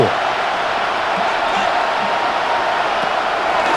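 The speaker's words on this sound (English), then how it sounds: "Crowd on their feet for 3rd and 4." Stadium crowd noise from the Madden NFL 26 football game, Saints against Cowboys, a steady loud roar of fans on their feet for a third down, continuous and unbroken with no talk over it.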